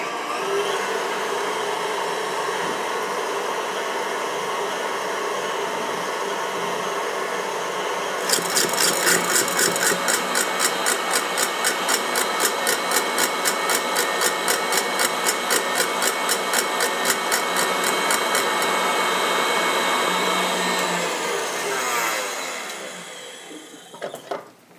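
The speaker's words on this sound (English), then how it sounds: "I'll beat the egg whites until they're stiff while I'm folding the flour into the egg yolks." An electric mixer whirs steadily as it beats egg whites until stiff for a strawberry charlotte, a constant motor drone that shifts into a rhythmic rattling whine midway before winding down near the end.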